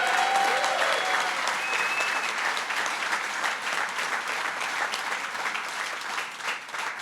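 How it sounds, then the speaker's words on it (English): A large audience at a homelessness funding announcement applauds Carl Heastie with dense, sustained applause that tapers slightly toward the end, with no talking over it. "Give him another round of applause."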